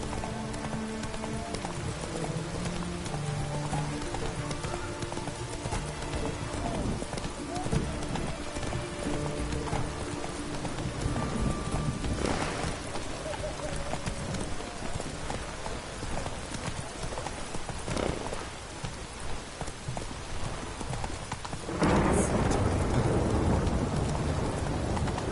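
Roach the horse gallops in The Witcher 3, with steady clip-clop hoofbeats over a bed of rain and occasional distant thunder, the hooves continuing throughout and growing louder near the end.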